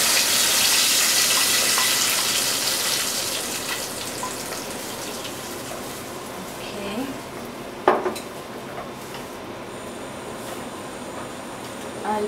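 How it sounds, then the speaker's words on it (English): Boiled yellow lentils go into a pan in an Indian home kitchen: a steady sizzle and clatter of cookware, fading gradually, with a sharp utensil knock near the end. "Add the boiled lentils to the pan."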